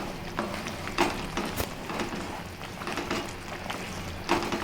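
Phool makhana masala curry stirred in a pan, steady close sizzling under scraping strokes of a spoon, with a few louder clinks against the pan and no talking.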